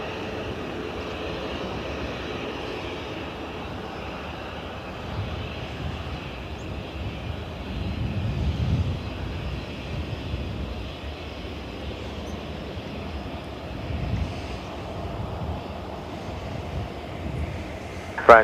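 Aer Lingus airliner arriving from Paris Charles de Gaulle at Dublin Airport, a steady distant jet engine rumble that swells slightly midway, with wind noise on the microphone.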